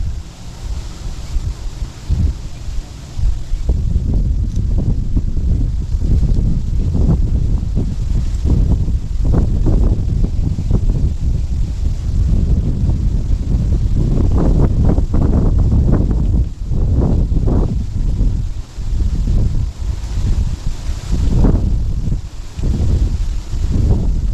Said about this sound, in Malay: Bawa angin.